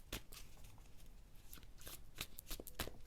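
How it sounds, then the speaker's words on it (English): Tarot cards are shuffled by hand, a series of quiet riffling and snapping bursts in an uneven rhythm, close and soft with no talk. "let me shuffle this and let's get some tarot cards out"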